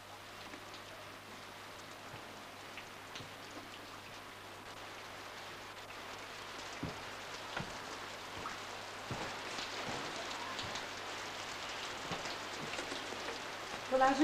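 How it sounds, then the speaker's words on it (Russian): Steady rain patters on a surface as a radio-play sound effect, a soft continuous hiss with scattered drops that grows slightly louder toward the end, with no one speaking. "Дайте дождю кончиться."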